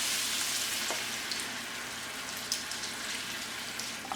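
Collard and mustard greens from a backyard garden sizzle in a pan after water is poured in, giving a steady crackling hiss with scattered pops and spatters close by.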